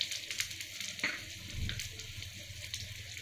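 Asafoetida powder hitting hot oil in a pan for a raw turmeric pickle, giving a continuous close sizzle with a few brief crackles and spits, no talking.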